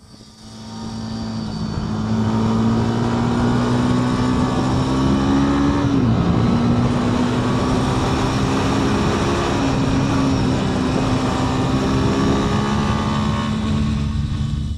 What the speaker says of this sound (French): ça a coupé à 9000 tours sans que je m'en rende compte